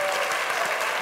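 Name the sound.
studio audience applause for Vinny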